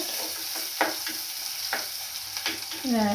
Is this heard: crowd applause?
no